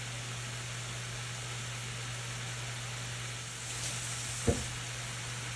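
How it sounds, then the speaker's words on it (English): Vegetables sizzle softly in olive oil with oregano, cayenne and other herbs and spices, a steady low frying hiss with a faint stir and one brief clink near the end. "We are going to stir to coat the veggies with the olive oil and the herbs and spices"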